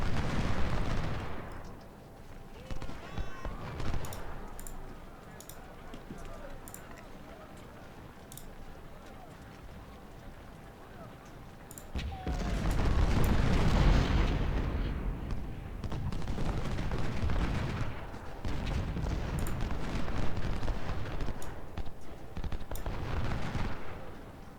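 Musket volleys and artillery fire in Ultimate General: Civil War, with booming crackling volleys rolling in waves, quieter sporadic shots early on, then heavy sustained fire swelling loudly in the second half.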